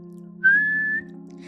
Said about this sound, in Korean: 나는 호루라기를 잡고 크게 불었지.